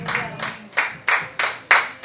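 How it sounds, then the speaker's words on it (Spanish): Rhythmic synchronized clapping from a church congregation during a Spanish-language worship service, about six loud broad claps in a steady beat with faint voices beneath. "Denle un fuerte aplauso a Dios"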